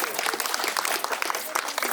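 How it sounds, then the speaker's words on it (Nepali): Applause ripples through a wedding crowd in Nepal, steady dense clapping that runs the full length at moderate volume, with no voices standing out above it. "सबैजनाले जोरदार ताली बजाइदिनु होला"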